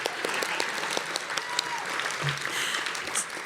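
Sustained clapping from a gala audience at an awards ceremony keeps going in an even, dense wash, with a few brief voices and sharper claps standing out close by.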